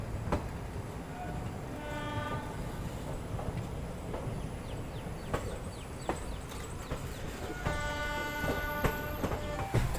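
Sabarmati Express running on broad-gauge track, a continuous low rumble of wheels and carriages with rhythmic rattles, faint squeals and a distant horn-like tone, heard from inside the train.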